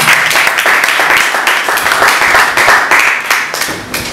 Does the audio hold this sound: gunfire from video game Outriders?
no